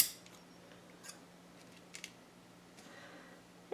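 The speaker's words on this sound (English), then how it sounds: "Next thing I'm going to do is cut a piece go across the bottom" Scissors snip through paper while a wedding scrapbook album page is trimmed, a few faint, separate cuts at roughly one-second intervals over a quiet room hum.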